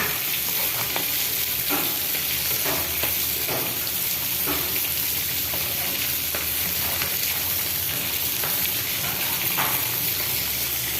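Bottle gourd curry with cumin fries and sizzles in a pan, with a steady loud crackle and intermittent stirring scrapes running throughout, no voices.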